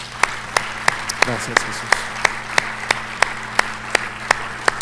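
A church congregation claps in steady unison, crisp evenly spaced beats about three per second, while a voice speaks over the rhythmic clapping.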